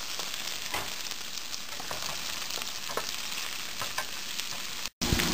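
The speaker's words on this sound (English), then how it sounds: "Mix it and now fry it." Sliced onion and garlic fry in a pan for a chicken kofta curry, giving a steady close sizzle with soft scraping stir strokes throughout and a brief break near the end.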